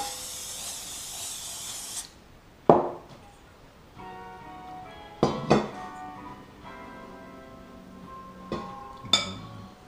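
A can of canola oil cooking spray hisses onto a steamer for about two seconds while preparing siomai, followed by several sharp metallic clinks and knocks of the steamer, with no voices.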